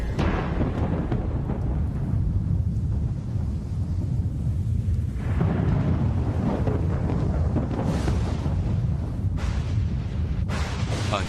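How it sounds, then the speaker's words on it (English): Thunder from a lightning bolt rolls as a loud, continuous deep rumble with heavy low-end boom, swelling and surging several times across the whole stretch. "A bolt of lightning has been created."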